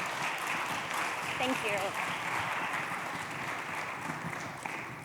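An audience at an education conference keynote gives a loud, steady round of applause as a speaker is welcomed on stage, with the clapping sustained throughout while a voice briefly speaks over it.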